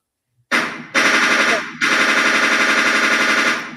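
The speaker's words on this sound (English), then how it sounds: "We gotta have our little gunshots too." Gunshot sound effects play as loud, rapid bursts of automatic gunfire, three close volleys that start abruptly one after another and run together into sustained rattling fire.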